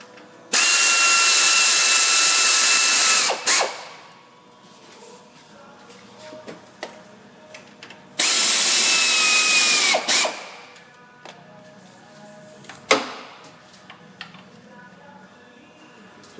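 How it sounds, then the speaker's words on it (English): Two loud bursts of a power tool, each about three seconds, drive and tighten the cooling fan bolts on a Ford Five Hundred, with a rising whine and a sharp clack as each stops, then quieter clatter. "Once those fan bolts are in, we can tighten them down."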